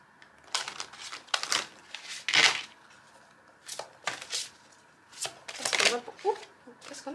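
Oracle cards shuffled in bursts, a crisp riffling flutter repeating several times at close range, with quiet gaps between; a voice speaks faintly in the background.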